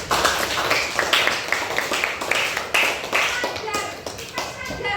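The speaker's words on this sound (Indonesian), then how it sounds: "Oke, tepuk tangan untuk teman kita." Classroom group claps hands in a quick, uneven patter, with voices talking over the clapping.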